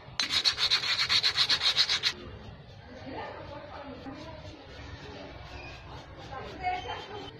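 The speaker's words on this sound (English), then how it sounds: "Clean this brake shoe also." A motorcycle drum brake shoe is scrubbed with quick rhythmic rasping strokes for about two seconds. Quieter handling noises and faint background sounds follow.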